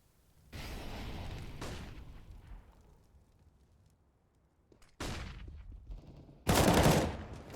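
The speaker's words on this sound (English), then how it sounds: "Burst fire for the AUG starts." Gunfire from an AUG rifle on burst fire in Counter-Strike on the Dust 2 map, a few loud bursts separated by quieter stretches, the last burst loudest and close.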